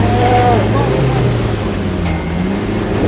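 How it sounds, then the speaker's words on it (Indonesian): A double-cabin vehicle's engine drones and strains at steady revs while towing a pickup stuck in thick mud, the low labouring hum rising and sagging slightly over a few seconds. "Suara mesin makin mendung, namun pickup yang ditarik belum juga bisa lolos."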